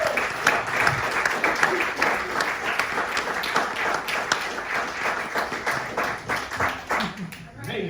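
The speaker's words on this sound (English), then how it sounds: "let's give a big round of applause to all the comedians" A comedy club audience applauds the comedians at the end of a stand-up show, a dense wash of many hands clapping close and loud, fading out near the end, with voices mixed in under the claps.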